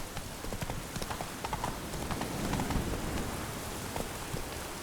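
Horse hooves clip-clop steadily at a walking pace in The Witcher 3 video game, set against a constant hiss of falling rain that stays loud throughout.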